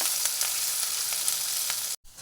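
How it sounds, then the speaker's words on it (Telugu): Potatoes frying in a pan for a potato fry dish: a steady, close, dense sizzle with faint stirring clicks throughout, cut off briefly near the end, with no voices. "ఒకవైపు బంగాళదుంప ఫ్రై, ఇంకోవైపు రసం 2 మరిగిపోతున్నాయండి"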